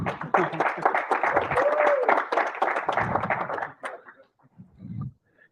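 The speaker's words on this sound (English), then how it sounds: "Sorry, give me another clap." Audience clapping at a tech meetup, a few seconds of dense applause that tapers off into scattered claps and a quiet murmur of voices.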